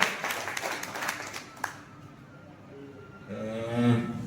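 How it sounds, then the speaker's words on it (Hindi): A group of students in a classroom claps together in a brief burst of overlapping claps that fades out within two seconds, followed by quieter room sound and a voice speaking near the end. "ताली बजाएं एक बार सब।"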